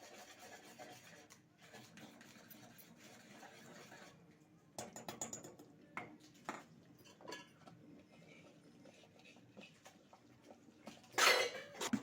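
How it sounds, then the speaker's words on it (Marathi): Thick gram-flour batter stirred in a pan for bhaji, soft rasping and rubbing strokes near and low in level, with scattered clinks of a utensil against the pan and one louder scrape toward the end. "हे असं व्यवस्थित आपल्याला हलवून घ्यायचंय. असंच घट्ट करायचंय"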